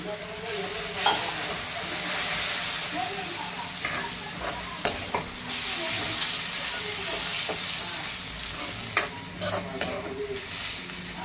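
Onions sizzle loudly in a hot pan with turmeric, with sharp bursts of hissing as water is splashed in, and the scrape and clink of stirring.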